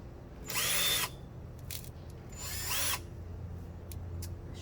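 Two bursts of a Ryobi power drill whirring as it drives into thick wood, each about a second long with a rising, straining whine, separated by a quiet pause, with faint clicks afterward.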